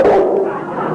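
A single short, loud dog bark or yelp, heard close and alone with no talk.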